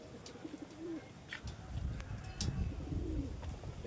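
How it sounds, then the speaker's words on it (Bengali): Pigeons coo softly at a Dankuni loft, a few low rolling calls rising and falling at moderate distance over quiet background hum, with no voices. "খুবই সুন্দর পায়রা দাদা"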